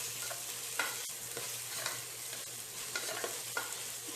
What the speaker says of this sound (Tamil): இஞ்சி பூண்டு விழுது நல்ல எண்ணெயில் வதங்கின உடனே நம்ம தக்காளியை சேர்த்துடலாம்